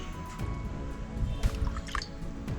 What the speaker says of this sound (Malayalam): അപ്പം ഇനി നമ്മൾ നാരങ്ങ ഒഴിക്കുകയാണ്.